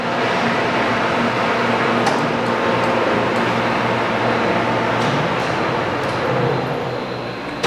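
A Leblond 19.5 x 105 engine lathe with coolant runs at 1000 RPM, a loud steady mechanical hum and whir that holds constant throughout, with faint ticking over it.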